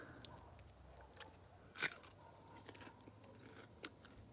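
One crisp crunching bite into raw zucchini, followed by faint soft chewing in a quiet setting.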